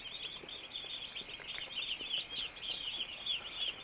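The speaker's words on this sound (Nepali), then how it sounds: "सानो कुखुराहरू" Small chicks kept indoors under a red heat lamp chirp continuously, a busy chorus of high, rapid peeps heard at moderate distance over a quiet background.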